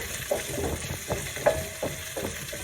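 Cubed green peppers stir-fried in a hot pan for chilli paneer, with a soft steady sizzle and a few scraping stirs of a spoon, close and moderately loud.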